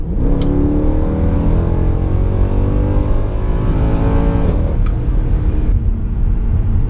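Tuned Mercedes C63 AMG accelerating hard, a loud, close engine note with rising harmonics through a sustained pull, a brief shift or lift near the end, then continuing under load.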